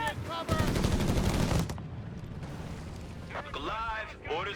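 Machine gun fire in the Company of Heroes 3 real-time strategy game, a dense rattling burst of rapid gunshots at the start followed by quieter battle noise, with a commentator talking over it.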